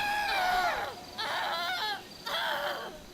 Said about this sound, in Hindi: और ज़ॉम्बीज़ की इतनी ज़्यादा चिल्लाने की आवाज़ आ रही है